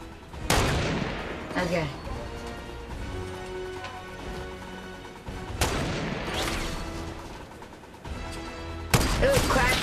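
Sniper shots ring out in a Fortnite arena duo match, several sharp loud cracks spaced a few seconds apart with echoing tails over background game noise, and a player briefly speaks.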